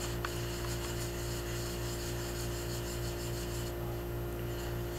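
A wet glove rubs over a soft fired greenware bisque doll head, giving a faint continuous scratchy friction over steady background hum, with no talk.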